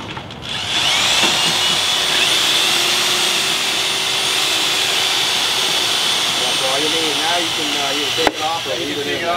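Mixing drill run at full throttle in a rinse water bucket after mixing thinset mortar, a loud steady high whine with churning water, close by, with people talking over it near the end.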